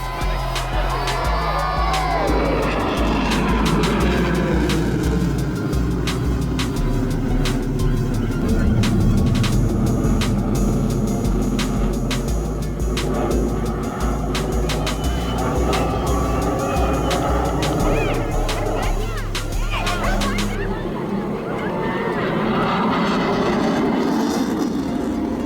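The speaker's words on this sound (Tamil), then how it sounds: "இது வந்து HAL தேஜஸ் அப்படின்ற ஜெட் பிளேன்." A HAL Tejas jet flies at the Chennai air force day air show, its engine a loud, continuous roar with shifting tonal whine that holds for the whole stretch, mixed with crowd noise and some voices.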